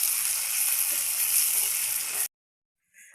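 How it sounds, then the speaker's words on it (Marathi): Onion and ginger-garlic paste sautéing in oil in a pan on a wood-fired stove while preparing a rohu fish curry, a steady bright sizzle for about two seconds that cuts off abruptly into silence before a brief faint return. "आलं लसूण पेस्ट टाकून सगळं परतून घ्यायचं कांदा आणि आलू लसूण पेस्ट"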